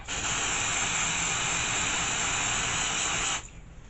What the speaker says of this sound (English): So open this bad boy up and let's begin to spray.